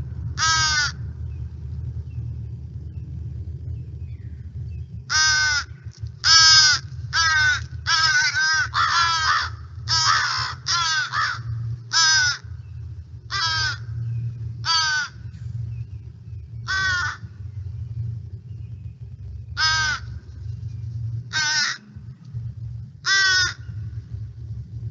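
Young crows begging from their parents at a nest, a long run of loud, harsh, repeated caws in irregular bursts over a low background rumble.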